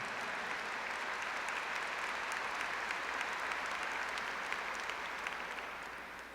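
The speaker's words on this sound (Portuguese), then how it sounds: "Give the Lord a big clap for this incredible" A church congregation applauds during a Catholic charismatic gathering, with steady, dense clapping that fills the room and slowly tapers off at the end.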